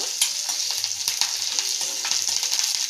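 Curry leaves, dried red chilies and urad dal tempering in hot oil for a mint chutney, a loud continuous close crackle and sizzle with scattered pops and no voices.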